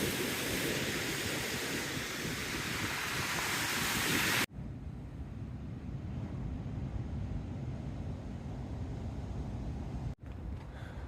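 Pacific Ocean surf rushes up the shore in a steady broadband wash, heavy wind buffeting the microphone, with an abrupt cut partway through.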